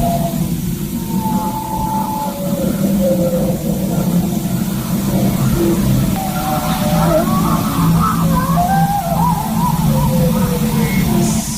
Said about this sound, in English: So you can hear the wolf howls, there's a weird animal howls, right? Car brake metal grinding,